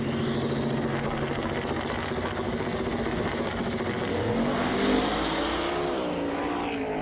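Drag racing cars, including a Chevy II on a street-style drag strip, roar down the track with loud sustained engine noise that rises in pitch near the end, no talk over it.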